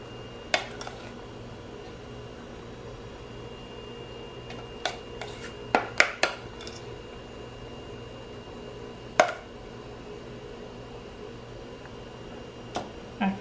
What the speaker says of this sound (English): now I'm just gonna begin to spoon the filling